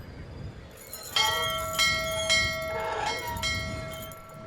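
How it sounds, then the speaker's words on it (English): A bell rung in the adventure game Syberia sounds several clear, resonant strikes with long ringing tones that overlap and sustain, over a quiet background. "I rang the bell!"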